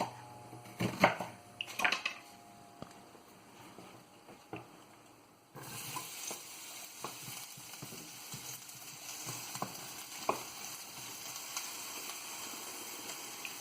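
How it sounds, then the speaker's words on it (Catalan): Chopped onion hits hot oil in a frying pan, setting off a steady, fairly loud broadband sizzle that carries on to the end after a few earlier clinks and knocks of kitchenware. "Quan ja n'hagi acabat de tallar la ceba, la incorporarem a la paella."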